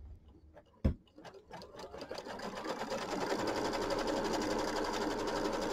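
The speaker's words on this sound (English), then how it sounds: "And I'm going to stitch out my placement line for the batting here." A sewing machine stitches a placement line for batting on a quilted gnome block, starting after a sharp click and settling into a steady, continuous close whir that runs alone to the end.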